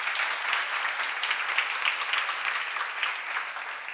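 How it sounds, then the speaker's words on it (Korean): Audience applause at a church seminar, steady dense clapping from a crowd that fills the whole span without a break and stays at an even level throughout. "박수 한번 쳐봐요."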